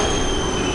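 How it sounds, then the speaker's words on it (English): A train pulls in at a Prague station, its wheels squealing loudly with a steady high metallic screech and rumbling rail noise, close by and without voices. "And there's my train."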